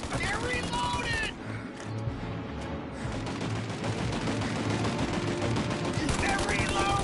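Gunfire in a shootout in Mafia Definitive Edition, sustained machine-gun bursts and single shots, loud and close, briefly pausing before resuming, with game sounds and voices mixed in.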